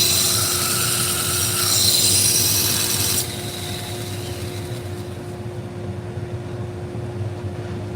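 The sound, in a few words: knife blade being sharpened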